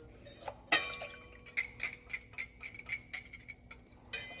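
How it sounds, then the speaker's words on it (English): A spoon stirring a homemade yogurt mix in a container, producing close, quiet scraping and clinking taps against the sides in an uneven, steady rhythm, with no talking. "I'll add a little in here, give it a stir"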